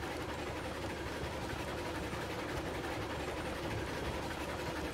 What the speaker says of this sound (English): this train is really going.